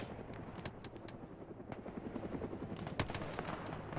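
Rapid bursts of gunfire and sharp reports in an Arma 3 battle, clustered shots popping repeatedly over a steady low rumble, moderately loud with no talk.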